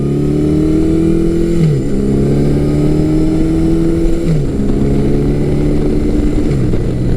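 A Yamaha 1100cc four-cylinder motorcycle accelerates hard through the gears, its loud, close engine note climbing steadily and dropping briefly at each of three shifts.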